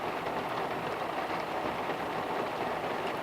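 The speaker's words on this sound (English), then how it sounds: "whenever the rain lets up, we'll see if we can go find a bear" Steady, even rain falls outdoors during a wildlife photography outing, a dense continuous hiss of drops on surfaces with no pauses and no voices.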